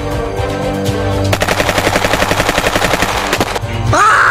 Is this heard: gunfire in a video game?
yes